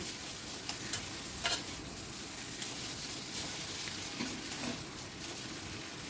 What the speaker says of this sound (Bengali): খুব ভালো করে ভাজা ভাজা মতো করে নেবেন। গ্যাসের ফ্লেমটা হাইতেই রেখেছি